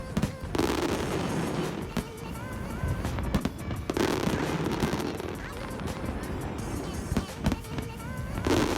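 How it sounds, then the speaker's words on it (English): Fireworks bursting over the Resorts World Las Vegas grand opening in Las Vegas, a dense run of sharp cracks and booms with loud crowd noise and some talking mixed throughout. "the fireworks show was absolutely spectacular."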